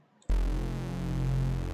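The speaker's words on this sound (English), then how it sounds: "you get a more rich and watery sort of bass sound" Reese bass on an Ableton Drift synth with unison cranked up: after brief quiet, a loud, rich, watery detuned low drone enters and sustains steadily alone.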